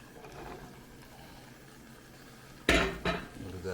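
A spoon knocks and scrapes twice against a pot of oil-free vegan black bean soup with tomatoes, the loud clanks coming close together near the end after a quiet stretch.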